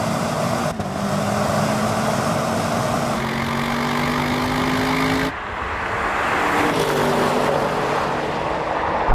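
An Audi RS6 roars in a racing video game, a loud sustained engine note that climbs through gears with abrupt shifts.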